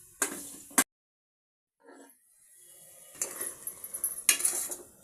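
Goat tripe frying in oil in a pot for boti sambar: two sharp metal clanks of a lid, a near silence, then sizzling and another loud clatter close by.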